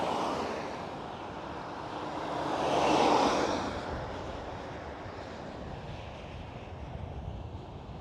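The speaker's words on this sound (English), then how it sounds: "KLM Cityhopper just landed on the center runway, E175." A KLM Cityhopper Embraer E175 lands on the Polderbaan runway at Amsterdam Schiphol, heard as a steady, distant roar of jet engines with broad wind-like noise that swells briefly at mid-clip, then settles into a constant rumble.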